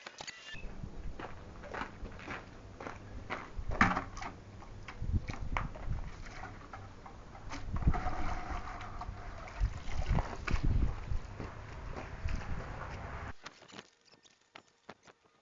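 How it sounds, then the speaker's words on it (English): Wet sponge scrubbing over car wheels and tyres, a close series of squelching, pattering strokes with watery dribbles, continuing for several seconds before stopping abruptly. "to do the wheels and tires, I use a different scrub sponge"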